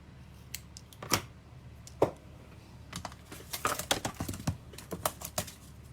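Scissors snipping paper while making a small bow for a watercolour craft, a handful of sharp isolated snips followed by a quicker run of close clicking cuts.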